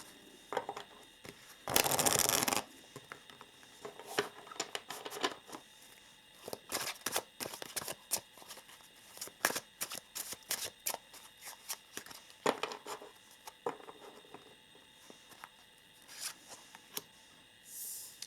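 Tarot cards being shuffled and handled, a loud riffle burst early on followed by many short soft slaps and rustles of cards, close and without speech.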